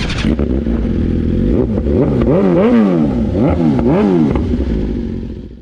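A warmed-up sport motorcycle engine on a dyno revs hard and loud through an open full exhaust, pitch sweeping up and down in repeated throttle blips before settling.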